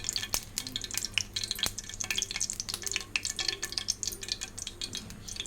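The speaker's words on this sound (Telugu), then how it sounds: "నూనె కాగుతుంది." Oil heats in a pan with a crackling, spitting sizzle, dense with quick pops and a few light knocks of a utensil, close up and without speech.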